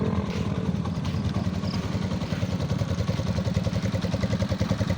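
A Rusi Flash motorcycle engine idles steadily close by, a fitted oil cooler on it, giving a low, even, rapid putter with light mechanical clatter and no voices.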